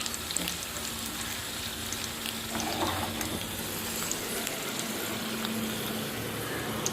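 Green chilies frying in hot oil in a single pot for Hyderabadi mirchi ka salan, with a steady dense sizzle and crackle that continues evenly throughout.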